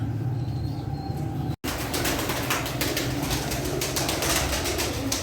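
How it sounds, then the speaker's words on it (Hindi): Pigeons flutter and shuffle close by as feed is put out, wings flapping in bursts over a busy rustle of birds gathering to eat, with soft cooing in the background. "ये डाल दिए कबूतरों के आगे। ये देखिए अब किस तरह आएंगे और खाएंगे।"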